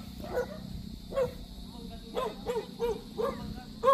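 A dog gives a few small, distant yips and barks outdoors in the countryside while a person talks nearby over it.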